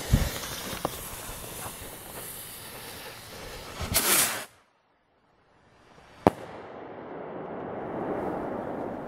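A freight train firework rocket launches with a loud whooshing hiss that cuts off abruptly, followed after a pause by a sharp crack and a lingering outdoor rumble.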